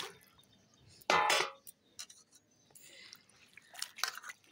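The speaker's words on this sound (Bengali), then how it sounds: "আর এগুলো এখন ডাটাগুলো ধুয়ে নিই ভালো করে।" Bottle gourd stalks are rinsed by hand in water, with a loud splashing burst followed by smaller drips, sloshes and light knocks, close and without talk.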